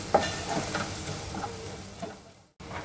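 Coriander powder and red chili powder frying in a pan while being stirred for a Konkani shrimp dish, with steady sizzling under soft scraping strokes, close by and without speech.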